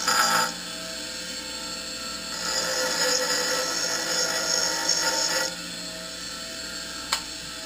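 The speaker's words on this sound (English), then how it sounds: "we're back over at the bench grinder, and all I'm going to do is I'm just going to grind that button off" A bench grinder grinds a button off a CAD disconnect shaft, a steady broadband hiss that swells louder for about three seconds mid-clip before dropping back to a lower whir, ending with a brief sharp tick.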